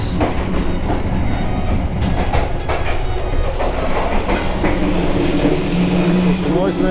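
Argo Parahyangan passenger train heard from inside a carriage: a loud, steady rumble with rhythmic clickety-clack of wheels on rails and occasional faint squeals. A voice speaks over it.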